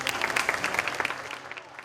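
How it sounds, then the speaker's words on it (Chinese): An audience at a Tainan teachers' award ceremony applauds, a brief patter of many hands at moderate distance that thins out toward the end, with a little speech mixed in. "郑局长掌声"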